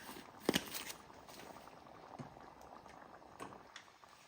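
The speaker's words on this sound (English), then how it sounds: "before our chili gets back up to completely boiling" Chili bubbles at a low boil in a cooking pot, a soft, continuous simmering patter with a brief clink of utensils near the start, with no talking.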